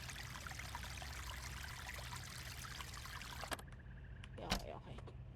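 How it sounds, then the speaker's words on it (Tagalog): Water runs steadily into a sink in the survival game Vein, a continuous broadband rush that fills the first three and a half seconds and then cuts off, followed by a few faint clicks. "Fill sink."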